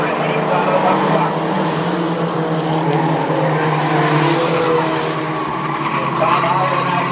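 Race trucks roar around the Star Speedway oval in a Mighty Trucks feature at night, a dense, loud, continuous engine drone with tire noise, heard beneath an announcer's steady commentary.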